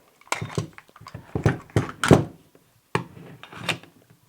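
Metal magazine handled and seated into a Sterling Mk.4 submachine gun, a close series of scraping slides, rubs and clacks with short pauses, ending in a final firm click and rattle.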